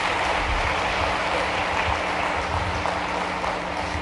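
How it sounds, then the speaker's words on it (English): Loud, dense applause from a forum audience for a minister at an economic forum, continuous clapping throughout with a low steady hum underneath. "Another round of applause for the minister"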